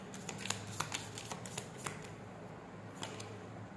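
Tarot cards shuffled by hand and drawn from the deck, a run of quick close papery riffles and sharp flicks in an irregular rhythm, with no talking.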